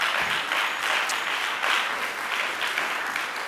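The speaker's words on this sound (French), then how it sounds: "On les applaudit." Steady, even clapping from a conference audience as guests come up to join the stage, filling the room at moderate loudness throughout with no voices over it.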